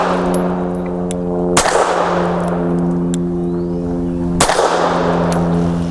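FN Browning BDA 380 pistol firing steel-cased Tula 91 grain ammunition at an outdoor range: two loud, sharp shots roughly three seconds apart over a steady engine-like hum.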